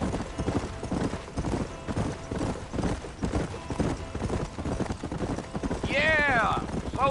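Horse hooves clip-clopping at a steady galloping rhythm in the Western video game Red Dead Redemption, close and continuous, with a short whinny near the end and voices talking over the hoofbeats.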